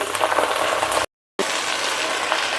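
Gongura leaves frying in groundnut or sesame oil in a pan for pickle, a steady loud sizzle that cuts out briefly and resumes.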